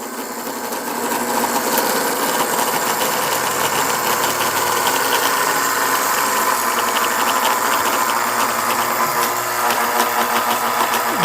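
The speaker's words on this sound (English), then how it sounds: "I like these old-time engines. They really let you know they're working hard when they're running." A steady, loud old-time engine drone with a rattling, knocking rhythm, running continuously without pause and heard up close.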